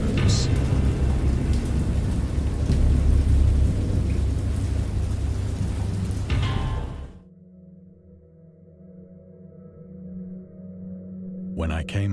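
Thunder and heavy rain of a great storm, a dense loud roar of downpour with deep rumbles that cuts off abruptly into near silence, then a faint swell at the end.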